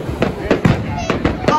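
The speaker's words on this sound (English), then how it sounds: "Ah, that's a big bang. Oh god, another big bang." Fireworks exploding over Clacton Pier, a string of sharp booming bangs in quick succession, loud and fairly close, with voices reacting between them.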